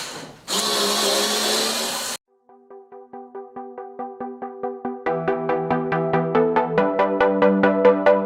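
Power drill backing screws out: first a loud, steady whir for under two seconds, a brief silence, then a long run of rapid, rhythmic pulsing strokes that grow louder and more insistent, heard close with no voices.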